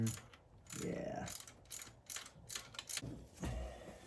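A ratchet socket wrench tightens the distributor clamp on a 1985 Chevy Caprice Classic in a cramped engine bay, with several short bursts of close, crisp ratcheting clicks separated by brief pauses.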